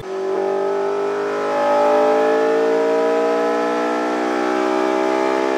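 A high-revving Honda K20A naturally aspirated 2-litre inline-four VTEC engine screams steadily, its pitch climbing gradually then holding near the top, loud and close with no talking.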